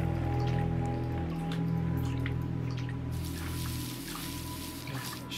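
Water sloshes and drips as a gold pan is shaken in the Gold Rush video game, a light watery patter over a steady low hum, continuous and moderately close, with no talking.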